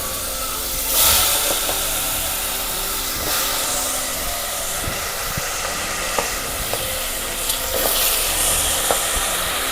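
Potato, cauliflower and green peas sizzle steadily in a spiced tempering of cumin powder and turmeric for pav bhaji, a continuous close frying hiss with occasional stirring scrapes.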